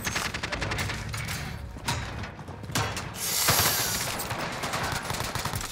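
Rapid gunfire and mechanical clatter from a shotgun fight in Call of Duty: Warzone on night-time Rebirth Island, dense repeated bursts with a louder blast near the middle, continuous and close.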